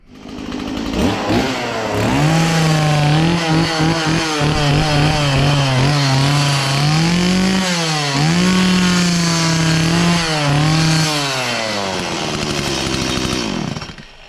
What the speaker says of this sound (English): So that is my chainsaw without a chain.